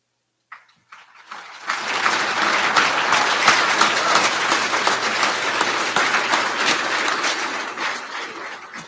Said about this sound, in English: if you could please stand for a round of applause.